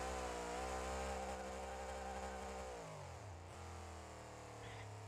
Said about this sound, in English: or you are buzzing off the limiter